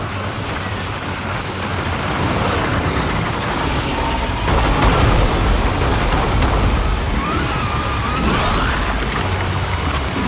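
Gunfire opens up in the video game Death Stranding 2, a dense, continuous roar of shots and booms rumbling loudly throughout, with no voices over it.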